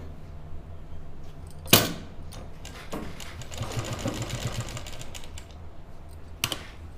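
A sewing machine stitches a lined kurti with a close, steady run of rapid clattering. Two sharp knocks interrupt it, and there is no speech.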